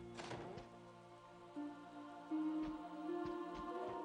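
Video game rainfall in a role-playing game, a steady patter with scattered droplet ticks over a sustained musical backdrop, fairly quiet and without talk.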